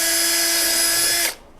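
A power drill whines at a steady high pitch as it bores holes for mounting side skirt extensions on a Mitsubishi Evo X, then cuts off abruptly into quiet.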